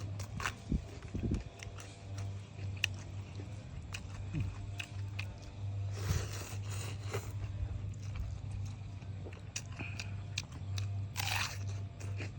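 Someone eating rice noodles with fish curry and tender leucaena shoots outdoors, with close crunchy bites and wet chewing spread through the clip over a steady low hum.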